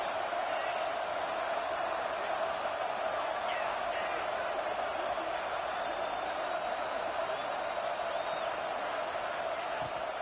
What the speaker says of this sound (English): The Red Raider crowd rising to the occasion to help its defense defense on third down